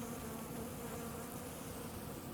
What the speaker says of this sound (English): the old bee was trapped in the spider web